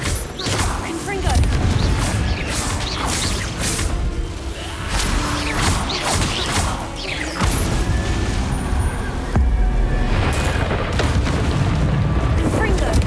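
Fiery Confringo spell blasts in Hogwarts Legacy burst repeatedly in heavy booms and crashes mixed with whooshing effects, while character voices shout over the combat.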